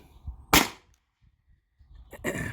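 A Beeman BP50 pre-charged gas air pistol fires nylon balls, giving a sharp, loud crack with a quick decay, followed after a short pause by a second, softer snap near the end, with no talking.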